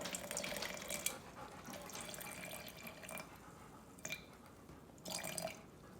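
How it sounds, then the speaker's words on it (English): Water poured into a container sitting on a kitchen scale while mixing sourdough, a steady trickling flow with a few louder splashy bursts, fairly close and with no talking. "So what you do is you put 100 grams of water into it."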